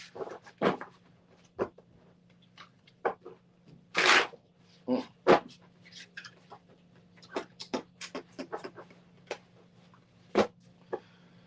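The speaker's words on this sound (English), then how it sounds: "Let's get a quick shuffle." Playing cards are shuffled in quick, irregular bursts of riffling and snapping, close by, over a faint low hum.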